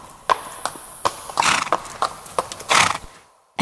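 Hooves clip-clop steadily on a hard surface as a storybook horse sound effect, with a neigh rising in the middle and again near the end, fairly close and moderately loud, with no talk.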